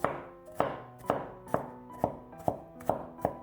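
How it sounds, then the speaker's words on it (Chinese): Knife mincing peeled garlic cloves on a cutting board, eight steady crisp chops in a regular rhythm, close up and alone. "先用刀拍一下，再改刀剁成蒜末"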